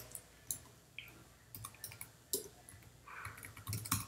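Someone types a username on a computer keyboard, with a quiet, irregular run of close key clicks and taps over a low background hum, no voices.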